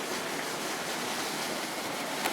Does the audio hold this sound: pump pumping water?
yes